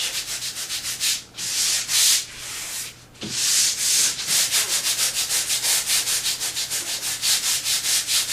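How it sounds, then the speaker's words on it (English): A drywall patch on an outside corner is sanded by hand in rhythmic back-and-forth rasping strokes, close and fairly loud, with a couple of brief pauses between runs. "I should be able to sand that just a hair."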